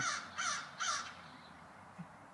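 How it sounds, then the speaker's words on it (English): Crows caw outdoors on a nice day, three loud, close caws in quick succession followed by a faint short call, with no speech. "and crows cawing, so hope you don't mind that"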